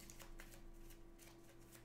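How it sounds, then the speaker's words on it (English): A deck of Transformers trading cards being shuffled during a tabletop card game tournament, a quiet, brief papery riffle with soft flicks. "Gotta shuffle."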